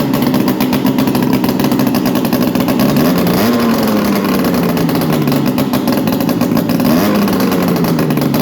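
Engine idling with its exhaust pulled off, giving a loud, raw, unmuffled rumble. It runs steadily with a couple of slow blips of the throttle that rise and fall, close by and without any talking.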